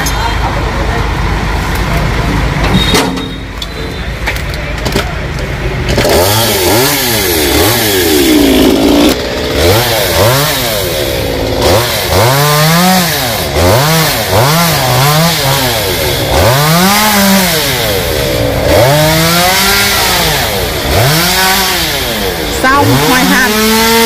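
A loud chainsaw cuts branches off a 200-year-old Sộp tree. The engine sits at a rough idle, then revs up and down over and over in long, close surges while it bites into the wood.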